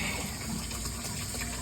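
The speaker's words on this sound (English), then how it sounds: "I am gonna dump the water." Old water poured out of a container in a steady, continuous gush, close and fairly quiet throughout.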